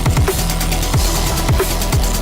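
An electronic music track plays loud and dense, with a punchy kick pulsing in a steady rhythm under bright, hissing synth layers and swooping tones.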